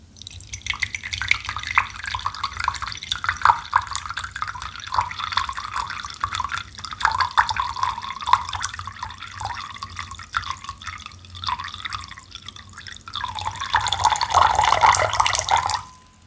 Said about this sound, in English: I'm gonna pour some water now from my tea kettle.